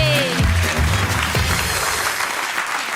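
A live studio audience applauds loudly on a BBC Radio Scotland quiz show, steady clapping filling the whole stretch, with a voice speaking briefly over it at the start.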